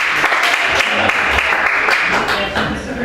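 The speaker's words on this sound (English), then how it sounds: "if you're happy and you know it, clap your hands" A comedy club crowd claps hands together in a dense, steady burst of applause, loud and close, with voices mixed in.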